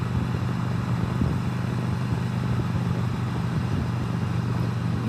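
Steady, continuous engine drone from a motorcycle cruising on the highway on a crisp morning during the Wharf Rat Rally in Digby, Nova Scotia, mixed with constant wind rush and no break in the sound.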